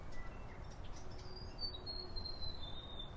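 Birds chirping in native forest at Riccarton Bush, Christchurch, with thin high calls drifting over a steady low background hum, faint and somewhat distant.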